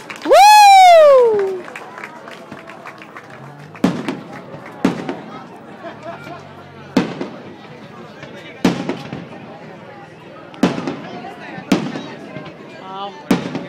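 Fireworks bursting in Italy: a rising whistle opens, then a series of sharp booms spaced about a second apart, loud and fairly close, with faint crowd noise between.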